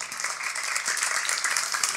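Church congregation applauding at a sermon, a steady wash of clapping from many hands that holds through the whole stretch at moderate loudness, with no talk over it.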